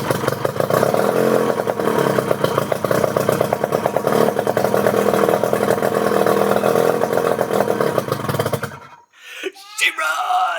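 A 1982 Evinrude 35 HP outboard motor runs loud and steady with a clattering drone for about nine seconds, then cuts off abruptly, leaving brief voices and quiet.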